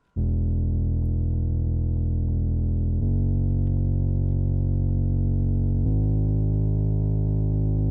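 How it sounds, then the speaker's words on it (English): A deep, steady sub bass synth tone drones continuously, shifting pitch twice in long sustained notes with no other sounds. "I also have a sub bass I throw in basically all my pain beats"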